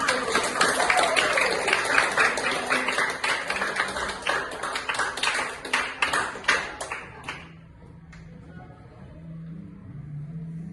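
Classroom group clapping after a poem recital, a loud busy burst of many hands lasting about seven seconds, then cutting off abruptly to quieter room sound with a few faint sounds.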